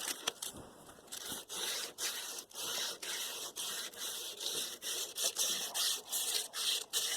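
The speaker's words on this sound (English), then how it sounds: "got some heavy grit sandpaper" Heavy-grit sandpaper rubbed over a rusty old axe head, a steady close scratchy rasping in repeated strokes with brief pauses between passes, no voices.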